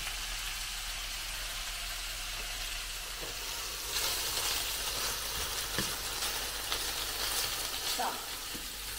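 Meat browning in a pan for a beet and chickpea soup, a steady close sizzle and crackle throughout with a few soft stirring clicks and scrapes, no talk.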